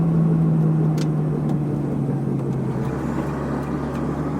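A salvage Ferrari driving on a road, its engine droning steadily at a loud, close level with a smooth cabin hum and a slight shift in pitch as it changes gear.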